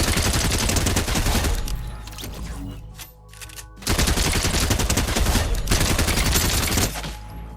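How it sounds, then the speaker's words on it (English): Rapid automatic fire from the regular submachine gun in the video game Fortnite, loud dense bursts that fill the sound, broken by a short quieter gap before another long stream of shots. "Let's see how the regular submachine gun performs."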